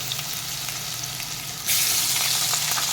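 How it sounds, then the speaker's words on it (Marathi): Potatoes frying in oil in a pan, a loud, steady close-up sizzle that swells into a brighter, more intense hiss partway through, with faint stirring and no talking. "हे बटाटे ना आपल्याला साधारण असे गोल्डन रंगाचे होईपर्यंत छान परतून घ्यायचे आहेत"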